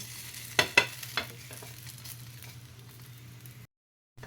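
Fasting dosa frying in oil on a pan: a steady hiss of sizzling with a few sharp spatula clacks early on, then the frying continues quietly before cutting out near the end.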